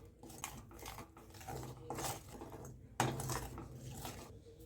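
A spoon stirs jaggery and spice powders in a pan for gond laddoos, giving a soft, steady scraping with repeated taps and one sharper knock against the pan.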